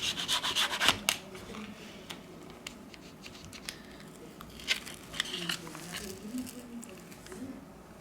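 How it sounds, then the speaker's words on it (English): A plastic card slices through the adhesive under an Asus ROG Phone's back cover, making dry rubbing and scraping strokes, a louder crackly burst at the start, then intermittent scratchy passes that come and go close up. "We use a plastic card to cut the adhesive."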